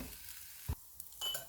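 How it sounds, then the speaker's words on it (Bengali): Nuts and raisins are stirred in a frying pan while making rainbow shemai: a short spoon scrape and faint sizzle, quiet and close, with no talking. "এখানে এগুলো একটু এভাবে এভাবে রান্না করতে হবে, একদম নাড়তে হবে অনবরত"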